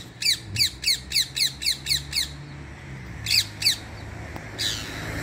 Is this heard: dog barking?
no